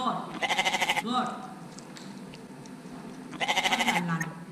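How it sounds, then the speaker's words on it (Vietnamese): Two loud, wavering bleats of a goat ring out near the start and end, separated by a quieter stretch, in an animal-sound lesson for children. "Goat, goat."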